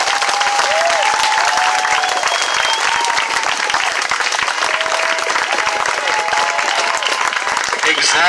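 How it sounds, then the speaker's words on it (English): A crowd at the Boston Unity March applauds loudly and continuously, dense clapping filling the air with a few whistles or cheers rising above it. "I want you guys to make a round of applause for yourselves, please"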